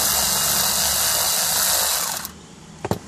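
Power driver spinning out female Torx security screws from a Chevrolet Tahoe panel, a close steady whir lasting about two seconds that then cuts off, followed by a couple of brief clicks.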